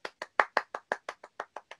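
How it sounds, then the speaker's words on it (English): Eleven crisp, separate hand claps in a quick, even rhythm, fairly faint and close, like one person or a small group clapping on a podcast, with no talk over them. "Round of applause, everybody."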